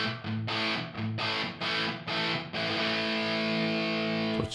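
Distorted electric guitar chords through a Two Notes Torpedo Studio with reverb set fully wet ring out, each strum trailing into a long, washy tail before a final sustained chord.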